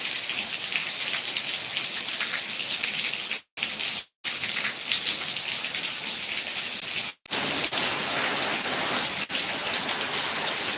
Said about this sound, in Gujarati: અમારે અહીંયા વરસાદ ચાલુ છે